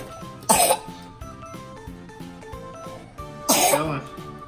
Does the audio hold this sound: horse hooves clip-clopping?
no